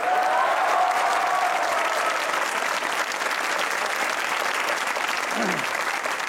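A studio audience at a Pakistani comedy talk show claps loudly and continuously, a dense, even wash of applause that fills the whole stretch without letup.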